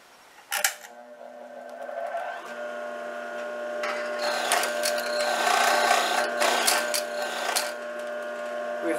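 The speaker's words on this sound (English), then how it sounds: "reverse, sew forward, reverse the stitch, just go back and come down to the front." A sewing machine stitches the side of a clutch purse, with the stitch reversed to lock it. A steady mechanical whir builds from about two seconds and runs close and continuous, with a sharp tap near the start.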